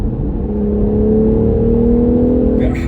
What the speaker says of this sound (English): And I put my foot down, kick down just happened, and it locked at 5.